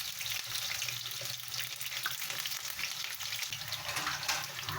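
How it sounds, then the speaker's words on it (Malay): Sliced onions and curry leaves sizzle and crackle steadily in hot oil, a continuous close frying hiss with no talking. "Digoreng agak-agak layu je lah."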